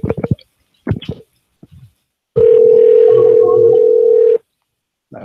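A telephone dial tone rings out as one loud, steady tone for about two seconds, following a few short clicks and bumps as the line is dialed, then cuts off into silence.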